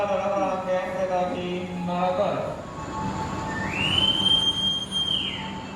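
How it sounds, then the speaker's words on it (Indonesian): The Malabar passenger train pulls out of Yogyakarta station, its wheels rumbling and a rising metallic squeal stretching across the second half, heard from inside the carriage with people talking underneath. "Barusan saja perjalanan saya naik kereta api Malabar meninggalkan stasiun Yogyakarta"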